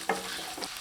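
Chopped onion is stirred and sautéed in hot oil with curry leaves for an egg podimas gravy, giving a brief, quiet sizzle with a couple of soft spatula scrapes.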